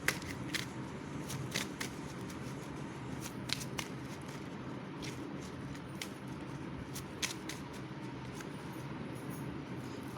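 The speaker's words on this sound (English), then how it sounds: "So let's pull out some intuition cards." Tarot intuition cards being shuffled by hand, giving soft, faint papery riffles and sharp flicks that come in irregular bursts over a quiet room hum, with no talking.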